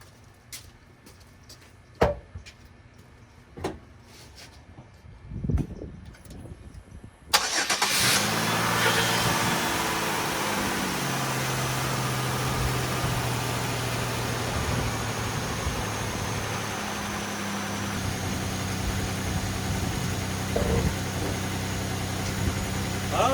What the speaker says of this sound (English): Let's turn the key and see if it'll start this time.